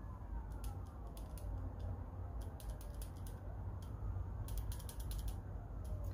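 Revolver handgun action being worked, giving a series of faint metallic clicks and ratcheting snaps in irregular bursts over a quiet background hiss.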